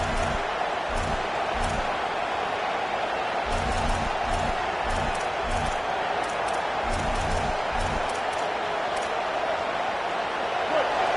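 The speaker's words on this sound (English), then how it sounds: "this crowd trying to help keep them there. Deafening noise." A roaring football stadium crowd at a Texas A&M versus Tennessee game keeps up a steady, loud wall of noise, with rhythmic pulses of clapping or stomping rising and falling through it.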